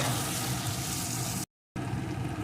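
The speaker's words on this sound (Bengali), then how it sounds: "এখন সমস্ত মশলা আমি ভালো করে কষিয়ে নেব" Spices and chopped tomato sautéing in oil for chicken kosha, a close, even frying sizzle with a short silent gap partway through.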